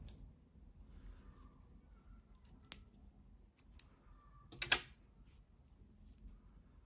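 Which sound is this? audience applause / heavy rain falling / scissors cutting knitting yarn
scissors cutting knitting yarn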